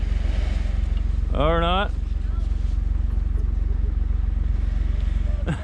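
A Jeep engine idles close and steady with a low, even throb while the vehicle is tugged backwards on snow, with a person briefly speaking over the running motor.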